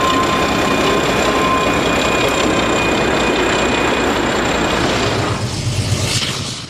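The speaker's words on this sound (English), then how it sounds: "An Alco S4 crosses F Street as it switches cars" An Alco S4 switcher locomotive switches cars at the east end of Bakersfield Yard, crossing F Street with a loud, steady diesel drone and a sustained tonal whine that fades slightly toward the end.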